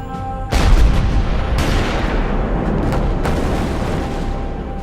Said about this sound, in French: la place forte de Maubeuge est bombardée, notamment par des pièces d'artillerie de type Grossbertha